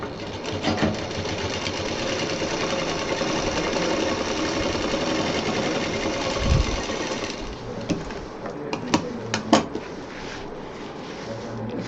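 A sewing machine runs fast and steadily while stitching fabric for a handmade bottle case. It then stops, and scattered clicks and handling noises follow.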